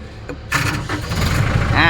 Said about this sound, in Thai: ลูกค้าบอกขอฟังเสียงเครื่องหน่อย